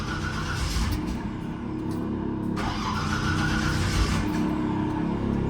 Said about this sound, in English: Tank's coming on now, because I dumped all the air out of them